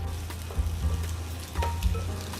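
Egg frying in a hot wok for shrimp pad thai: a close, continuous crackling sizzle with a few louder pops and scrapes of stirring, no voices.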